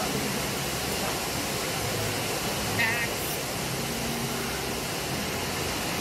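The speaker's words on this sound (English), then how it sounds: "we finally made it to the falls at the 160-foot promontory where Rock Creek" Rock Creek plunges as a waterfall at a 160-foot promontory into a canyon, giving a constant, dense broadband roar that stays level from start to finish without pauses.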